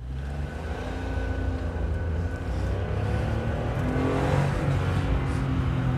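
An old Firefly car engine hums and slowly builds as it pulls away in first gear on a test drive. The drone is steady and close, with no talk over it.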